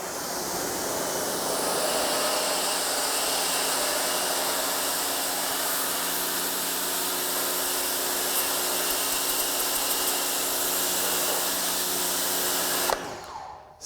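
An electric pressure washer sprays through a 25-degree tip, a steady loud hissing rush that runs unbroken for about thirteen seconds and then cuts off abruptly near the end.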